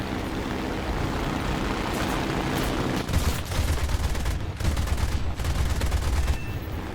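Aircraft guns fire in War Thunder from an Ar-196 A-5 floatplane as dense, loud bursts over a steady engine drone, with rapid rattling volleys clustered in the second half.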